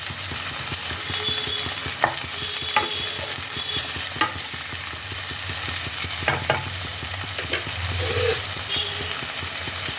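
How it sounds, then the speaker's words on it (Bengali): Chopped tomato is mashed into a spice paste in a hot pan, a continuous close sizzle with occasional sharper taps and scrapes of a utensil, no talking. "টমেটো কুচিটাকে ভালো করে স্ম্যাশ করে এই পেস্টের সাথে মিশিয়ে নিতে হবে।"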